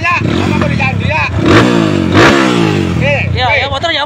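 A motorcycle engine revs hard in two loud surges close by, its pitch sweeping up and falling back, while people chatter over and around it.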